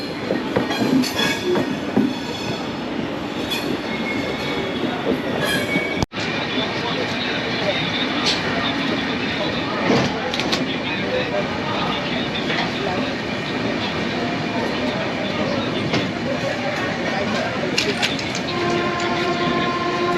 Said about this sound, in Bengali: 1 2 3 4 5 সরাইঘাট এক্সপ্রেস হাওড়া স্টেশন থেকে গুয়াহাটির উদ্দেশ্যে সঠিক টাইমে রওনা দিল